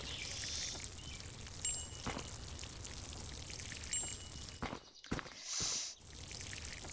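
A tap in the Plant Nursery Simulator video game runs with a soft, fairly quiet water flow, broken by a couple of brief gaps and clicks near the end.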